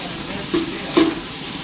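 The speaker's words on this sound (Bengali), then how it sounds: "এখন মসুরের ডালটা দিলাম গরম তেলে আর পেঁয়াজে।" Red lentils drop into hot oil with browned onions and sizzle steadily, a close, bright hiss with a brief swell in the middle.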